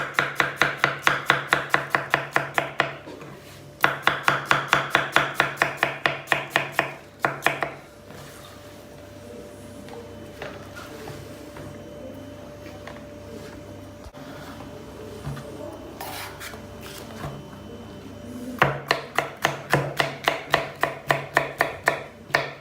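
A knife chops onion and green peppers on a cutting board in a home kitchen, giving rapid, evenly spaced close thuds in bursts, with a quieter pause in the middle.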